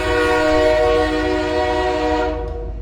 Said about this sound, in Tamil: இந்த ஹாரன் சப்தத்தோட